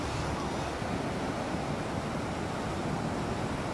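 Flooded Pampang river in Keningau rushing after sudden rain, a dense continuous roar of fast-moving water, loud and close, steady throughout with no talking.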